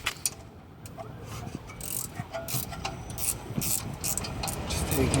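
A ratchet wrench works on the rear brake caliper bolts of a 2013 Volkswagen Passat 2.0, with quick clicking strokes and metallic rubbing heard close up in a garage setting.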